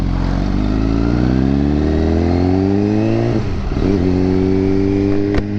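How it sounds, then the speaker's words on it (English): Loud, close engine of an MV Agusta super sport motorcycle revving, a smooth rising howl that drops and climbs again in steady pitch sweeps, with a sharp click near the end. "This is the fun of riding a super sport, that too like a MV Agusta and all."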